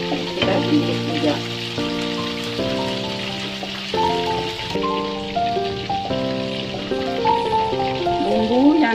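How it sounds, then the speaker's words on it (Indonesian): Garlic and onion sauté in a pan for Minang-style chicken semur, a steady close sizzle running continuously beneath music throughout. "Warna bawang kekuning-kuningan, masukkan bawang putih. Kita tumis saja."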